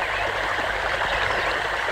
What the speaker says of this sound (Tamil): வாய்க்கால எவ்வளவு தண்ணி போகுது